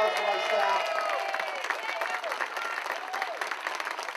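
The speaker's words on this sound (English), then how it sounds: "Great round of applause for my staff." Crowd applause at a 2011 campaign announcement, a dense burst of clapping and some cheering from a room full of supporters, steady at first and thinning toward the end, with voices underneath.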